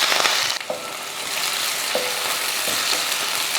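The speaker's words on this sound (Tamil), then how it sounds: "வெங்காயம் நல்லா பொன்னேரமாக வதங்கட்டும்" Small onions fry in hot oil with curry leaves and fenugreek seeds for bitter gourd kuzhambu, giving a loud, even sizzle close by, marked by a few soft spatula clicks.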